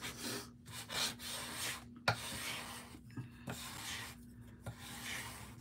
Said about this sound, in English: I'm just going to scrape over the top of it by putting this on top of it because I don't want to risk tearing the sticker